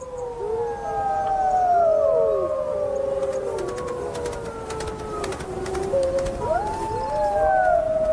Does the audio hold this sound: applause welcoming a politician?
no